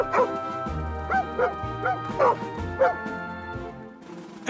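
Several cartoon dogs bark in short, bright bursts spaced about a second apart, with a musical background bed underneath.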